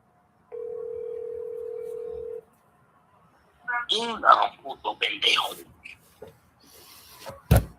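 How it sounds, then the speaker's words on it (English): An outbound phone call placed as a steady dial tone for about two seconds, then a pause before someone talks close to the mic, with a brief knock near the end. "I'm going to make an outbound call for the first caller."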